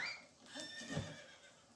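Horse neighing in a video game, a single close whinny that rises and falls over faint background, with no talking.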